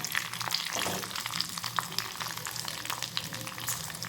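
Chopped onion hisses and crackles in a little hot oil with dried red chillies, a soft, steady sizzle with occasional stirring scrapes for gongura chutney.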